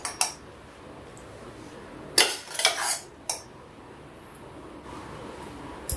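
Cooked white ash gourd is mixed into curd in a bowl, heard as a few scattered spoon-against-dish clinks and scrapes separated by quiet pauses.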